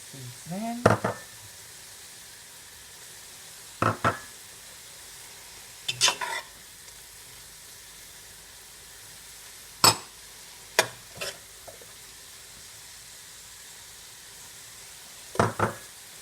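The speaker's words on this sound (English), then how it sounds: "Give this a good stir." A pot of coconut fry chicken with green seasoning is stirred as seasoning goes in, giving a handful of short, separate scraping and clattering bursts over a quiet, faint sizzle, with long pauses between them.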